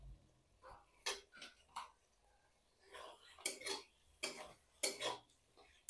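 Spoon stirring two spoons of Kashmiri red chilli into masala in a pan for chicken stew, giving soft scraping and clinking strokes in irregular bursts, fairly quiet and close.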